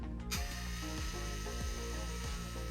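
A permanent makeup machine being switched on, a small handheld device giving a steady mechanical buzzing with regular ratchet-like clicks, close and fairly quiet.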